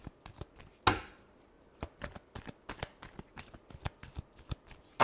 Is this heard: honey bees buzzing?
no